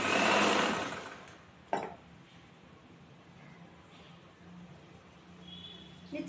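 A sewing machine whirs loudly in a short burst while stitching a chudithar neckline with a quarter-inch seam, then falls quiet with only faint handling noises and a soft click afterward.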